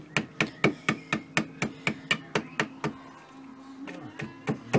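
A steady series of light hammer taps on metal while shaping a gasket, about three per second, close and even, with a brief pause before the tapping resumes.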